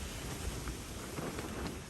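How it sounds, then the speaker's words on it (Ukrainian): Steady wind buffets the microphone in a continuous low rumble with gusty surges, loud and close, with no other sounds or voices. "Шумить вітер, сьогодні погода вже спортилася"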